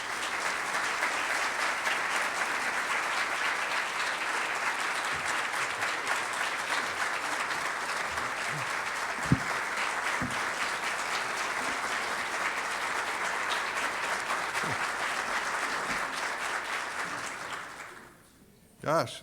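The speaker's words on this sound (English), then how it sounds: "I have to look and be sure it's me that y'all are clapping" A large audience applauds steadily for the Chief Justice's introduction at an awards event. The clapping stays loud and dense for about seventeen seconds, then fades out, and a voice briefly begins.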